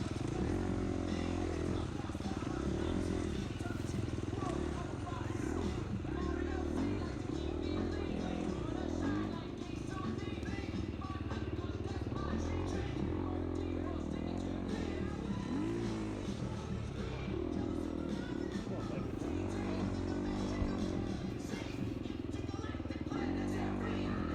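An off-road motorcycle races in a cross-country event at Pleasant Ridge in 2021, its engine droning and revving continuously with muffled rattling from a helmet-level perspective, while a rider's voice talks faintly over it.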